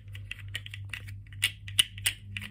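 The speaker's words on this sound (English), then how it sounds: "plasticky click clack noise." A plastic fidget toy spun by hand gives a string of small, light click-clack ticks at an uneven rhythm. The clicks are close and fairly quiet over a low steady hum, and no one talks.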